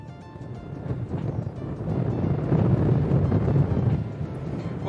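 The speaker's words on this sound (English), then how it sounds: "It is a little bit windier today, as you can probably tell" Strong gusty wind buffets the microphone on an exposed Cornish coast path between Watergate Bay and Porthcothan, a continuous low roar that swells louder midway and stays heavy to the end, with no voices.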